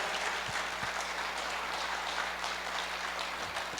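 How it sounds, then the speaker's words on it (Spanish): A church congregation claps in praise, a steady wash of many hands sustained for about four seconds at moderate distance. "Alguien puede darle un buen aplauso al Señor."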